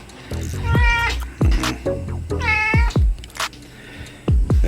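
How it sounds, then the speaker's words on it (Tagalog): A female house cat meows repeatedly at close range, a series of clear, drawn-out mews with short gaps between them. "Yan naman ang pusa ng anak ko"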